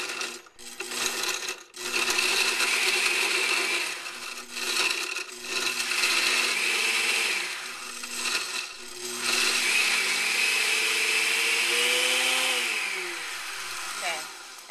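A blender crushes ice with water for a frozen drink, a loud grinding whir that runs in long stretches with brief stops and shifts in pitch as the ice breaks down.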